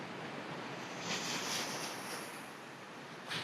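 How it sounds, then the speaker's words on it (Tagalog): Large ocean waves breaking on a shore, a continuous broad roar with swells rising around the middle and again near the end, mixed with some wind noise. "Lalaki ng alon"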